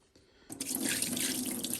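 Soaking water poured off potatoes into a kitchen sink, a sudden rushing splash that starts after a brief quiet moment and continues as a steady, close gush of draining water.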